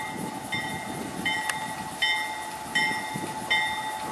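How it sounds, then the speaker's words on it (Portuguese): A freight train's helper locomotive backs up to couple onto the tail of the train, an AC44i unit, with steady rolling rumble, several short metallic clanks and a sustained tonal squeal or horn line running throughout. "Vemos a cauda do trem,"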